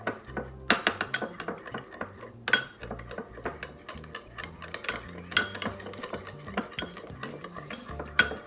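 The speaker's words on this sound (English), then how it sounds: "I'm gonna give this a stir." A creamy pan sauce seasoned with black pepper, stirred for a parmesan-crusted tilapia dish; a utensil clinks and scrapes against the pan in irregular close taps and knocks, with no voices.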